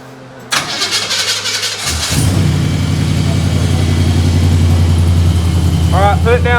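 A 1955 Chevy 210 engine cranks briefly, catches and settles into a loud, steady idle up close, with a voice heard at the very start.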